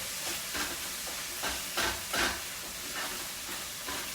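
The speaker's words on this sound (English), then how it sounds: "I'm gonna put all the malagueta. And you kind of just saute this a little bit." Malagueta peppers sauté in a pan for cod balls, a steady soft sizzle with occasional louder bursts of hiss and stirring, moderately close and without talk.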